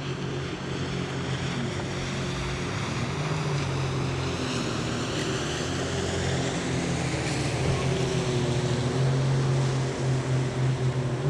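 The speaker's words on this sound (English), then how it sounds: "Jet skis are out." Jet skis run on a lake, a steady droning engine hum with shifting pitch that carries over the sound of water for the whole stretch.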